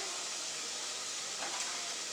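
Onion sizzles in a hot pan, a steady bright hissing crackle that fills the sound continuously and fairly loudly, with no voices over it.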